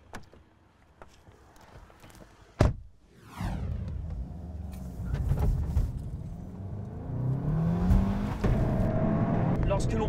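A Seat Leon Cupra driven hard on Balkan roads: a sharp thump, then a steady engine rumble and road roar that builds as it accelerates, with revs rising toward the end.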